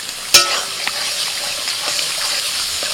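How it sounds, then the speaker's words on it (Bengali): Spice masala of turmeric, coriander, cumin and Kashmiri chilli powder cooking with a splash of water in a pan: a sharp scrape or clink at the start, then a continuous soft sizzle and bubbling hiss. "অল্প একটু জল দিয়ে মশলাটা কষিয়ে নিচ্ছি"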